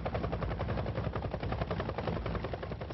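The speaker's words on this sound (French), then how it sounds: "Ces hélicoptères américains transportent des soldats français en plein cœur de Berlin." American military helicopters carrying soldiers over Berlin, heard as a loud, continuous rapid rotor thumping with a dense, steady chop and no pauses.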